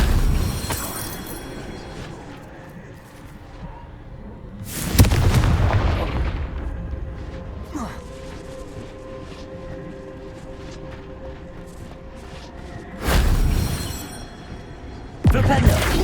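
Confringo blasting spell from Hogwarts Legacy, sounding as two loud, booming explosive bursts some seconds apart amid game ambience, with another sharp blast near the end.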